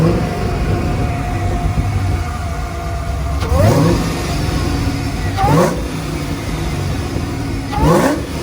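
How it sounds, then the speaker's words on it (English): A car engine with a supercharger blower and an aftermarket exhaust revs three times over a steady idle, each rise bringing a faint whistling whine, loud and close. "You can actually hear a little bit of the blower when you rev it now."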